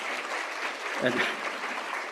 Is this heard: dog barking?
no